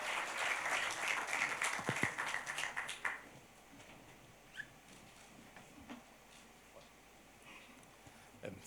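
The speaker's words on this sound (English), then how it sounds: "Give a big round of applause" Audience applause at the FIFA Futsal World Cup Lithuania 2020 emblem launch, a dense burst of clapping that dies away after about three seconds, leaving a quiet room with a few scattered claps.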